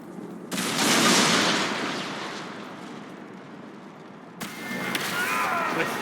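A detonated primer explodes in the video game Dragon Age Inquisition, a loud roaring blast that swells and slowly decays, then a second sharper burst with crackling debris.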